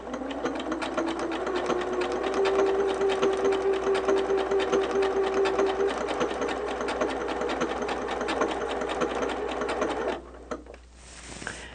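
A sewing machine runs continuously for about ten seconds, stitching to join pieces of quilt batting, a loud, close, steady mechanical hum with rapid needle chatter, then stops abruptly.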